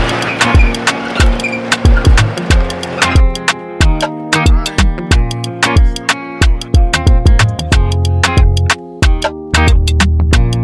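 A car driving on a long road trip, with repeated loud, sharp bursts and a steady rumbling underneath heard up close, with no talking.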